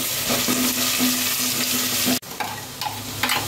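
Garlic and cumin fry in a pan with a loud, close, continuous sizzle and stirring, briefly cut off by a sudden drop before the hiss resumes.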